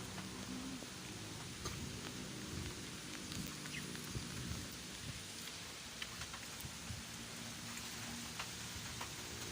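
Steady rain falling outdoors where racing pigeons are kept, a dense even hiss of drops on surfaces that runs unbroken from start to end at moderate level, with faint low rumbles beneath and no voices.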